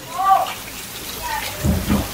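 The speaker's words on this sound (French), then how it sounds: "ils mettent de l'eau sur le toit. C'est pour ça qu'on a l'impression qu'il y a de la pluie en fait" Cooling water sprayed onto the roof of a small waterside restaurant, a steady rain-like patter and hiss with occasional low rumbles, heard close and fairly loud with a voice speaking over it.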